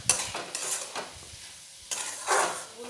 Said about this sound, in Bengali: এবার এই ডালগুলো একটু 3-4 মিনিট ভালোভাবে ভেজে নেব।